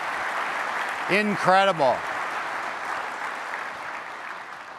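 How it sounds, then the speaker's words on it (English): Audience applause for United Fiber CEO Darren Farnan onstage, a broad steady wash of clapping running throughout, with a brief spoken exclamation near the start riding over it. "Let's give him a big round of applause"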